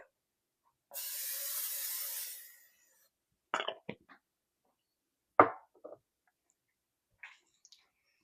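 Olive oil sprayed from a can onto a pan: one short hissing burst of about two seconds, followed by scattered clicks and taps of kitchen handling in an otherwise quiet room.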